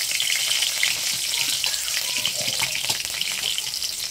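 Dried and green chillies frying in hot oil in a wok, a loud continuous crackling sizzle close by with no speech over it.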